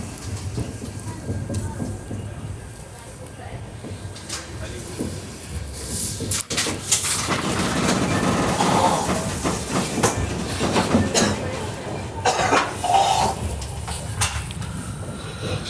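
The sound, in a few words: sleeper train running after leaving Akola Junction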